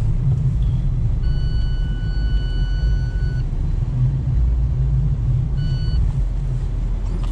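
A Lada Niva Travel 2021 grinds through deep snow, its engine a loud, steady low rumble, with brief electronic beeps chiming twice over the drone.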